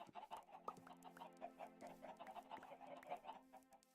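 Chickens cluck steadily in a coop in Minecraft, several overlapping bird calls repeating at close range over a low constant hum, with no talking.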